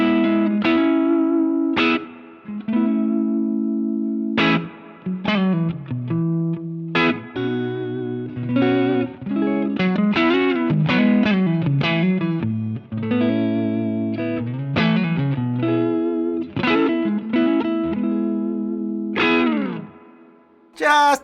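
Electric guitar played through an Anasounds Elements spring reverb pedal set to its biggest tank, with clean picked notes and chords ringing out into deep reverb tails, alone with no talk.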